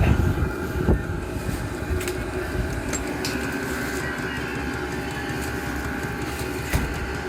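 A Vevor diesel heater runs in a two-car garage with a steady low mechanical hum and rumble, holding an even level throughout with a couple of faint knocks near the start and end.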